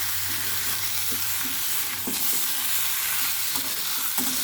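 Food sautéed and stirred in a pan, a dense continuous sizzle close by with occasional soft scrapes of a spatula, loud and steady throughout.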